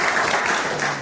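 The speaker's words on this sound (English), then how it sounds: "Let's give a great round of applause to Karthik." Audience applause for a new member at a Toastmasters club meeting, a short burst of clapping from a room of people, fairly loud and steady, then fading slightly toward the end.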